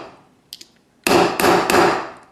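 Regular hammer striking a domed wire washer ring in a jewelry wirework session: after a quiet lead-in with two faint taps, three loud, sharp metallic blows land about a third of a second apart, close up with no talk.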